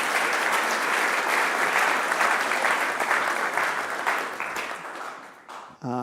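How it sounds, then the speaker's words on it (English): A live event audience gives panelists a dense, steady round of clapping that fades near the end before a brief microphone thump. "Let's give them a round of applause as we begin our parent."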